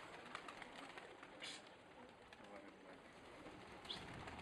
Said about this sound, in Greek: Έτσι είναι τα περιστέρια.